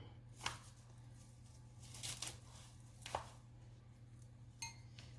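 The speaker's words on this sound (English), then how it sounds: "we'll chop up a little cilantro." Cilantro being chopped with a knife on a cutting board while making chili verde, heard as a few sparse, close knocks of the blade over a steady low hum, with no talking.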